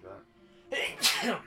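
A single sharp sneeze from a person during gameplay of Resident Evil HD, loud and close, following a brief spoken word.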